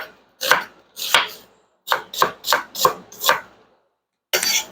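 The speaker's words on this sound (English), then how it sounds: "So these we're going to slice also fairly thin." A knife cuts vegetables into thin slices on a board in about eight crisp, close chops, first a pair, then a quick run of five, a pause, and one more.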